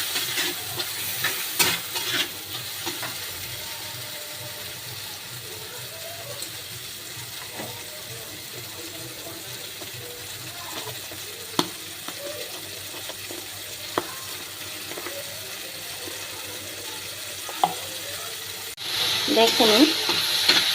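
Tomatoes fry in a pan for Bengali hilsa curry, a soft steady sizzle with occasional spatula scrapes and stirring knocks, close and continuous, rising to a louder hiss at the end.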